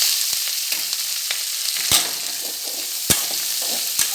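Grated beetroot, coriander, curry leaves and green chilli go into a frying pan for cutlets, making a soft ongoing sizzle with several sharp spoon knocks against the pan as it is stirred.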